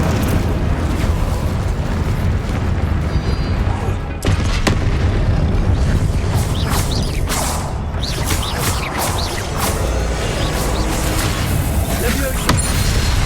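Incendio fire spell cast amid a Hogwarts Legacy duel: dense, loud crackling blasts and whooshing bursts layered under a player shouting spell names, with a sharper impact near the middle.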